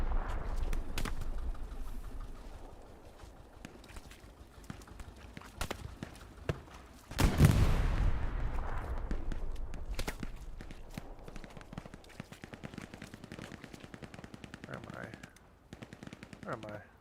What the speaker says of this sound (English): We have a sniper in the field over here.